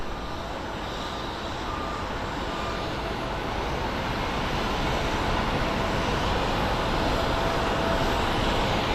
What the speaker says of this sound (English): right over there we do have our little Embraer taxiing